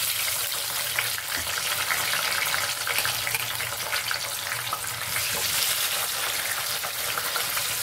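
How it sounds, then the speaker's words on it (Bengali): Potatoes fry in hot oil in a kadai, giving a loud, continuous crackling sizzle with brief scraping stirs, close up and with no talk over it. "আলুটা ভেজে নেবো"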